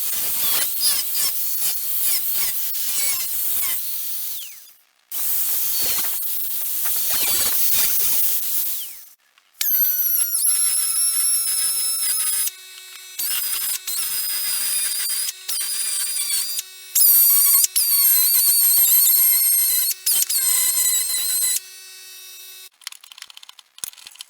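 Cutting out a spot-welded steel scuttle and bulkhead panel on an Austin Mini, with harsh, loud grinding bursts that pause briefly, then a high, whining cutting tone with ringing squeals and short stops.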